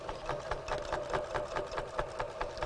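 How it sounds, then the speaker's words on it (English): A sewing machine stitching across quilt binding, running in a steady, fast rhythmic chatter of needle strokes throughout, close and alone. "And we're going to sew right over it,"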